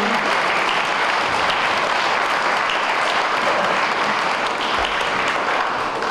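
Sustained, dense applause from an audience honouring award winner Jaromír Přikryl at a town awards ceremony, steady and full for about six seconds with no voices over it.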